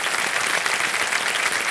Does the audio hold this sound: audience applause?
yes